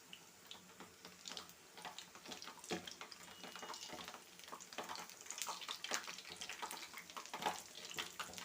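Challa punugulu, buttermilk fritters, fry in hot oil with a continuous soft sizzle and bubbling, faint and even throughout, with occasional brighter crackles and no speech.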